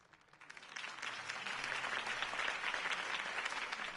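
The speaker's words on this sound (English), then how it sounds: "If only Mr. Wayne, my campaign's largest backer, could have heard that applause" A crowd applauds in the Batman Telltale game after a Harvey Dent campaign speech, the clapping swelling within half a second to a sustained, moderately distant ovation.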